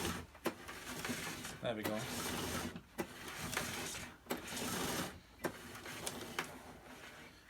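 A 1982 Moulinex Major upright vacuum rewinds its cord with a scratchy mechanical whirring broken by clicks and brief pauses, close up, as a person speaks briefly.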